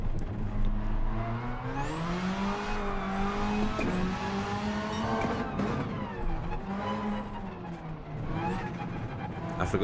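A 22B rally car in Gran Turismo 7 drives with a steady, loud engine note whose pitch climbs and dips through gear changes, with brief tire squeal.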